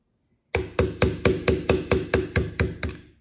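Steady hammer blows drive a dowel pin out of a pump during replacement, about ten sharp metallic strikes in an even rhythm, close and loud with no talking.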